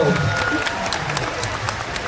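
A crowd at a rasgarba gathering of thousands of women applauds, a dense, busy patter of clapping that holds steady through the short stretch, with faint voices mixed in.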